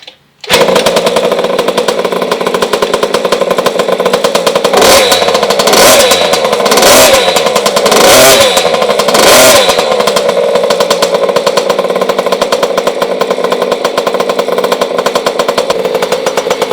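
A 50cc mini motocross bike engine runs loud and steady throughout, with a string of sharp revving bursts in the middle before it settles back to a constant buzzing idle; no one speaks.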